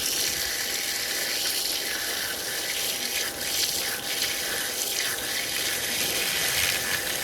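A strong, continuous hiss of spraying water rushes without pause, loud and close, with no talking.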